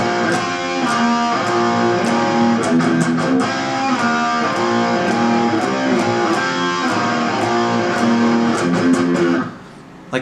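Single electric guitar playing the first part of the bridge of a song, power chords on the high strings with slides and repeated sharp strums, loud and close, with no talking, stopping abruptly near the end.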